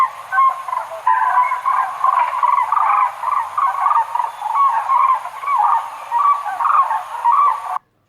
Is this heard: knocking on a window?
no